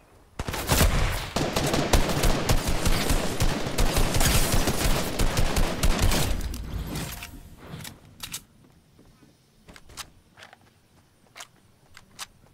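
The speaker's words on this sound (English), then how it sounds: "Getting shot at?" Dense bursts of automatic and single-shot gunfire from an online shooter battle rattle loudly and continuously for several seconds, then thin out into scattered, more distant isolated shots.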